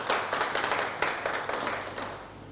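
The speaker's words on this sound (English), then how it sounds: "yes, applause to the minister again." Audience applause at an awards ceremony, a steady crowd of clapping hands rising at the start and continuing evenly throughout, with no speech over it.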